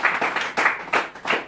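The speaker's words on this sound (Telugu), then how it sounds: "గట్టిగా చప్పట్లు కొట్టి" A congregation claps loudly in a rhythmic pattern, with about six strong beats of group clapping in quick succession and no speech over them.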